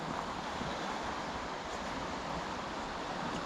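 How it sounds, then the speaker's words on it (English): Waves on the River Wansbeck overturn and churn in a steady rushing wash, with wind noise mixed in; continuous, moderately loud, and no voices. "one of those waves just like overturns on the set and you see the white. That's where you hear it."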